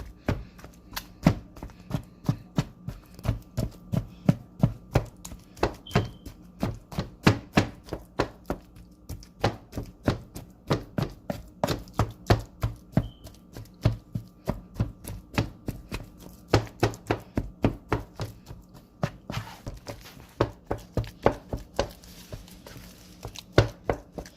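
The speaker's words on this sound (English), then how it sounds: "go ahead and start breaking my potatoes down" Boiled potatoes with butter and sour cream are mashed by hand in a steady run of firm, evenly spaced thuds and squelches, close and continuous, with no voices.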